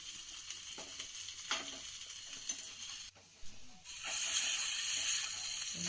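Ginger and spices frying in oil for a paneer curry, a faint steady sizzle with light crackles that drops out briefly in the middle, then returns brighter and more hissing.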